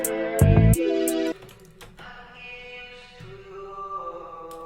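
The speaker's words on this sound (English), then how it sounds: "add an audio effect rack with a reverb, which sounds like this." A short sung R&B vocal phrase with reverb added, lingering reverberant tails, notes sustaining and decaying into a roomy wash after each line.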